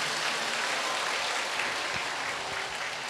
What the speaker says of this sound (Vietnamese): chúng ta cho một tràng pháo tay thiệt lớn nha